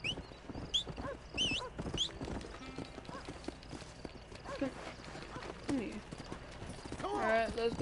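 A horse in Red Dead Redemption runs with clip-clopping hooves, mixed under frequent talk and game sounds, the hoofbeats steady but partly masked.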